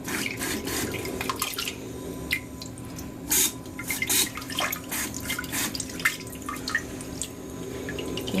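A handheld cloth diaper sprayer hisses water onto a soiled diaper in a continuous spray, with intermittent louder bursts and splashing dribbles close by. No one speaks.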